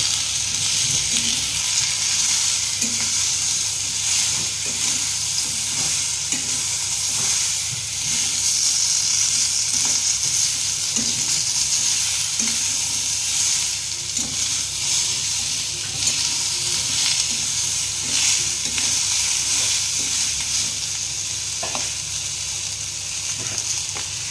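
Potatoes frying in a pan for a crab curry, a loud, continuous close sizzle and hiss with faint stirring clicks running throughout, no talking.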